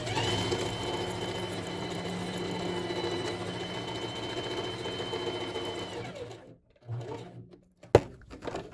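A sewing machine stitches buttonholes on a women's V-neck dress blouse, a steady, close, continuous whir for about six seconds before it slows, stops and gives a few short bursts and a sharp click.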